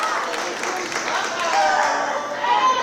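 Wrestling crowd at a CCW Alive show cheering and clapping steadily throughout, a broad continuous roar of applause that swells slightly toward the end, with a commentator's voice running over it.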